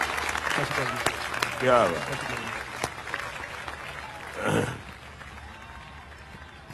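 An audience claps for the winning team captain taking the stage at a sports event. Moderate applause continues beneath a loud announcer's voice, swelling briefly midway, with the speech staying prominent throughout.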